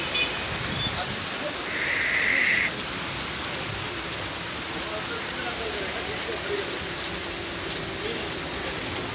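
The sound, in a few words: rain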